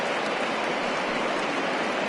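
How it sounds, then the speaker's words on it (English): Steady rain falling over an outdoor baseball game, a dense, even hiss that holds without a break and with no voices over it. "we've mentioned the conditions aren't ideal with the rain coming down"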